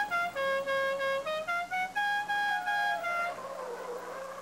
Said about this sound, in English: It even has the famous Dixie horn.